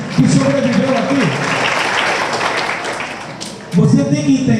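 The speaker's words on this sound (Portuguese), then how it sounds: "salve de palmas para Vinícius, gente" Church conference audience applauding a guest, a steady broad wash of clapping lasting several seconds with speech over it at the start and end.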